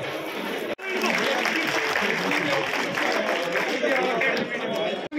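Crowd applause and cheering at an outdoor BJP Jan Aakrosh Yatra rally at the Ramlila ground in Bansur, loud and sustained, with a brief break near the start, spreading through a dense crowd.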